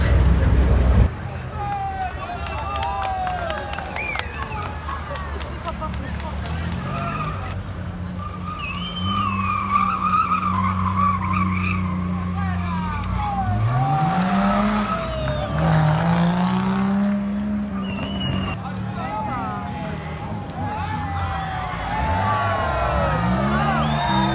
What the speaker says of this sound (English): There's a random car race.